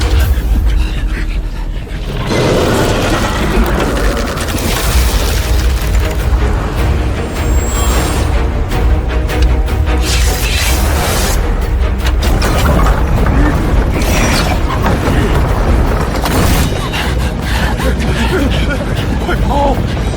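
Animated battle at a city gate: dense, loud cannon fire and explosions roar continuously, with rumbling blasts and debris layered over one another, close and overwhelming.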